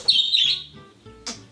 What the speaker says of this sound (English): My birds are chirping like always.